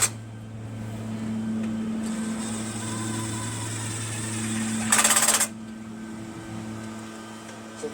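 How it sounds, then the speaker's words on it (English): An impact wrench rated at 200 inch-pounds tightens engine cylinder head bolts, giving one short, loud rattling burst over a steady background motor hum. "So this impact is rated at 200 inch-pounds"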